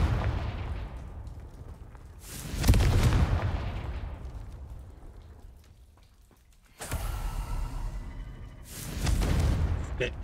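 Confringo fire spell explosions in Hogwarts Legacy: several loud booming blasts, each followed by a long rumbling decay, spaced a few seconds apart and close.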